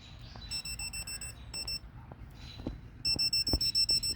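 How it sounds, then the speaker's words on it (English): An induction voltage tester held to a pool pump cord emits bursts of rapid, evenly spaced high-pitched beeps, a short run, a brief pause, then a faster closer series, over faint handling noise. "You need to take your induction tester"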